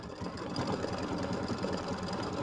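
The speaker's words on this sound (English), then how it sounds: "Now it's going to do the decorative stitch" An embroidery sewing machine runs a decorative stitch, giving a steady, dense mechanical whir with rapid needle pulses throughout, close and continuous with no pauses.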